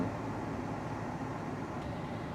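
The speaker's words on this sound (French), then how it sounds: "le bruit que tu entends, c'est la clim, hein, elle tourne à fond" Steady, even whooshing of a car's air conditioning blowing hard, a constant broadband hiss with no breaks.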